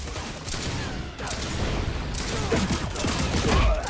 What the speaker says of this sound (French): On nous tire dessus!